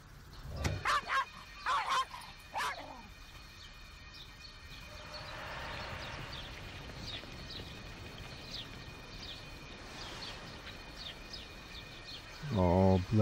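A small dog barks in a few short bursts near the start, then background noise, with more sharp barking at the very end.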